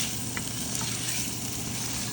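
Pork heart and liver sauté in a hot pan with a loud, unbroken sizzle and frying hiss, close and steady for the whole moment, with no voices.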